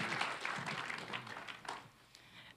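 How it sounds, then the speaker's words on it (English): A church audience gives applause, a dense wash of clapping that thins out toward the end. "Why don't we give her a big applause for what God's going to share through her."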